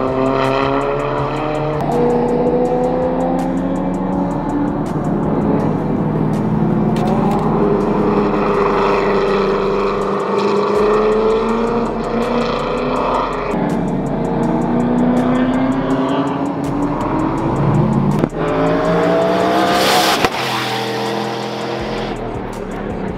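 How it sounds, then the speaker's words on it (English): A Mazda Miata revs hard and drives off, its engine note rising and falling steadily through loud gear changes in a car-show setting, with a brief sharp burst near the end. "This Miata's freaking ripping"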